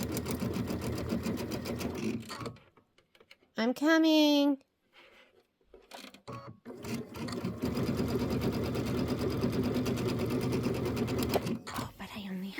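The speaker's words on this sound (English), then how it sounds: "Let me sew this last one." A sewing machine stitches a pieced quilt block in a home setting, making a fast steady mechanical whir in two long bursts that stop briefly while a person speaks a few words between them.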